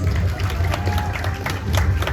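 An audience applauding performers as they come on, steady dense clapping mixed with crowd murmur throughout.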